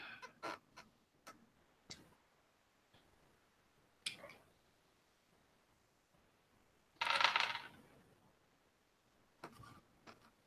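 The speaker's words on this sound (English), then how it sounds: "Yeah, I'm rolling physical dice." Physical dice are rolled, several light scattered clicks and rattles across the clip, with one louder clattering burst in the middle, all fairly faint and close.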